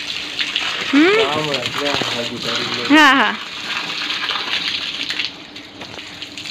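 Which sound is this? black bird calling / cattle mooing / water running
water running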